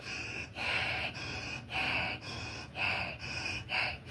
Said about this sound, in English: you should take deep breaths while doing it like this.